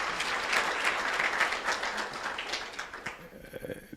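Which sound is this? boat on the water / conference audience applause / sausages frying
conference audience applause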